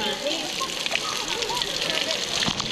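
Water from a waterfall shower at a hidden waterfall pours and splashes steadily, a close, continuous broadband wash with no speech.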